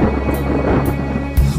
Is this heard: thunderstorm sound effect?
yes